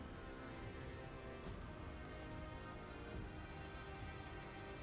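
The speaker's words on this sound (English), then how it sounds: "Storm's getting bad." Steady, dense rain hiss plays as background ambience at a tabletop role-playing session, a continuous even wash of falling rain with no breaks and no talk over it.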